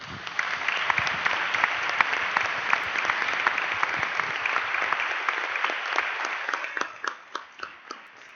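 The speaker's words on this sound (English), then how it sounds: "they deserve an applause" A conference audience at GA'17 in Wroclaw gives a full round of applause, steady and dense for several seconds, then thinning out to a few scattered last claps.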